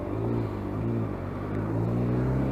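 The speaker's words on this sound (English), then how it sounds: "Start your engine." A motorbike engine idles steadily after starting, a low continuous rumble with a regular throb throughout, close by and alone.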